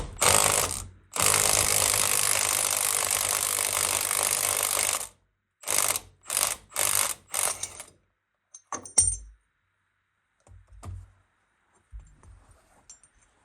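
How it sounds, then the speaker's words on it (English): An impact wrench with a 22mm socket hammers at a nut on a Polaris Sportsman ATV ball joint: one short burst, then a long steady rattling run, followed by several quick bursts and scattered faint clinks of the loosened nut. "I'll take a 22mm socket, put it on my impact, and I'll just loosen that nut up"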